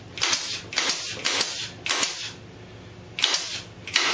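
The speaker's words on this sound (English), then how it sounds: "Then you just start randomly firing pin nails into it." A pin nailer fires 3/4 inch pin nails into plywood in a woodshop, giving about eight sharp, close snapping shots in irregular quick succession with short gaps between them.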